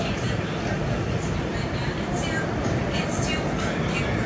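Brand new Staten Island Railway R211S subway train on a Tottenville-bound local run, a continuous rumbling roar of wheels and motors heard from inside the car, loud and steady with a faint onboard announcement voice.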